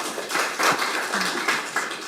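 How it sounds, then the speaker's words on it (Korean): A seated audience at a Korean panel discussion claps to welcome a speaker. The clapping is faint and sparse, with scattered soft claps over a quiet room. "박수로 모시겠습니다."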